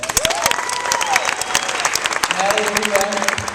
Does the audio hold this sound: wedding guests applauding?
yes